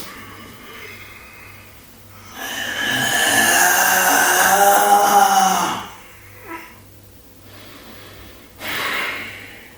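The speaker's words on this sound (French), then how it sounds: "On inspire." A long, loud, deep inhalation lasting a few seconds during a home exercise session, heard up close, followed by a couple of shorter breaths.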